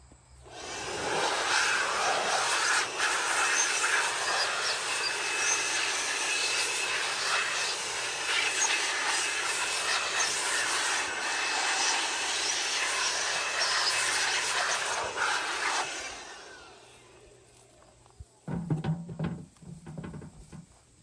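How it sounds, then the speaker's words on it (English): A leaf blower roars steadily for about sixteen seconds, clearing bees out of honey super frames in an apiary production yard, blowing from the top of the frames, then cuts off, leaving quiet rustling and a few knocks. "I like to blow from the top where the frame rest is wider, out the bottom where the frame rest is narrower"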